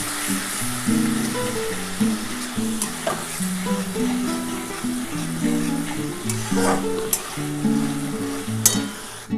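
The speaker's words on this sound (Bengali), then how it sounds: "দিয়ে এবার ভালো করে একটুখানি কষিয়ে নিতে হবে।" Spice paste with turmeric and a little sugar sautéing in oil for a Bengali bata fish curry, a steady sizzle with stirring scrapes and occasional sharper clinks over a low tonal background, continuous throughout.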